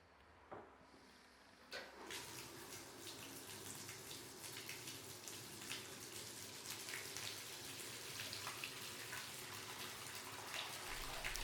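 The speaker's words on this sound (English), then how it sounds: "So while listening to the bathwater" Water in a bath splashing and trickling around a rebar pizza knife blade, a steady soft wash of dripping and sloshing after a brief quieter start, close and fairly faint.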